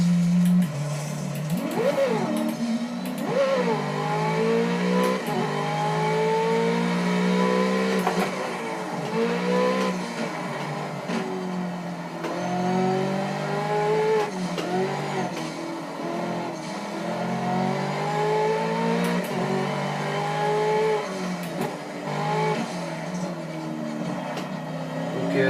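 A race car circling the Bugatti circuit at Le Mans, its engine loud and close throughout, rising and falling through gear changes as it brakes late and accelerates again, with no talk over it.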